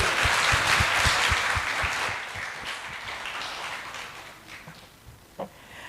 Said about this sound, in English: Give a big applause for everybody.